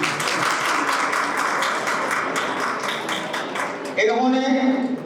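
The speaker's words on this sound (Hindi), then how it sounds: "इनके लिए जोरदार ताली बजाएं" Audience applause at a coaching institute's 2023 annual award function, dense steady clapping throughout, with a voice briefly speaking near the end.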